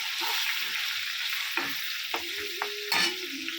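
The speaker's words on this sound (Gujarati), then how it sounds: "હવે એને હલાવી નાખશું પાછું, એટલે મીઠું બધું એમાં મરચાંમાં સરખી રીતે ચડી જાય." Salted green chillies fry in a pan for Kathiyawadi vagharela marcha, a steady sizzle punctuated by a few sharp scrapes and clinks of the stirring spoon.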